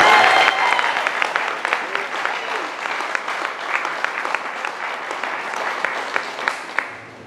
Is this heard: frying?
no